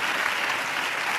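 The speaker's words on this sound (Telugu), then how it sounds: "చప్పట్లు కొడితే యేసయ్యకు స్తోత్రాలు చేద్దాం" A church congregation claps together in a brief burst of dense, even applause, heard alone without talk.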